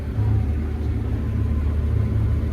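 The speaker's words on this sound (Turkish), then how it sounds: "Buğday biçiyoruz yeni makinemizle." A CX6.80 combine harvester cuts wheat at the start of harvest, giving a steady, close, low engine rumble and whir that holds at a constant level throughout.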